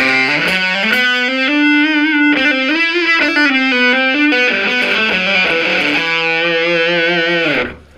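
An electric guitar played through a Zvex Probe Vexter distortion pedal rings out in loud, fuzzy sustained notes and shifting chords, thick and saturated, before fading out at the end.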